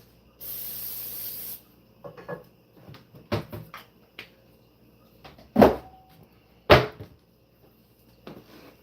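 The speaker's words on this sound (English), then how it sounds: "I'm gonna spray with some cooking spray." Cooking spray hisses into a frying pan in a home kitchen in one loud, steady burst of about a second, followed by scattered light knocks and clatters.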